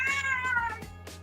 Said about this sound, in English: So got Mr. Meow with me